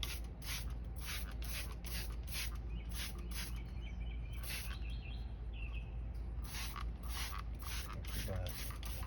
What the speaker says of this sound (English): I'm going to spray it on half of the wheel so that you can get a pretty good before and after.